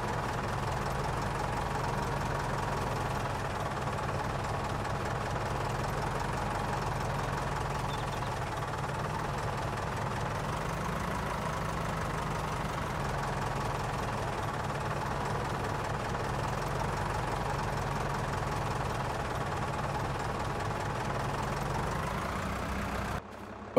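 A steady, low tractor engine idle in Farming Simulator 22 chugs continuously with a knocking rumble, holding an even level throughout before cutting off at the very end.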